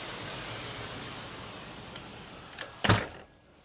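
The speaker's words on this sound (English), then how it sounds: "How quiet it is when you close the door." A bedroom door in a penthouse apartment in central London swings shut with a single near thud, followed by a brief latch click, against a quiet room hiss.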